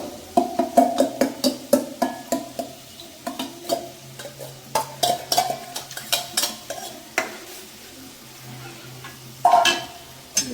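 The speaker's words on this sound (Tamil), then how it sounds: "இப்போ வந்து நம்ம பருப்பு ஊற்றிடுவோம்" Mashed lentils stirred into onions frying in a pan, with a steady run of sharp spoon scrapes and clinks against the metal over a soft sizzle, close and alone.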